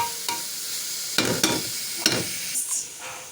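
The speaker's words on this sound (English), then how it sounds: "allow it to cook until the meat turns brown, that is, the flesh color goes off" Meat for a macaroni meat pie browns in a pan. A low sizzle runs under a few louder scraping stirs and spatula knocks, close and fairly quiet.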